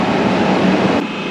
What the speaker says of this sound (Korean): 자, 저희가 갈아탈 지하철이에요.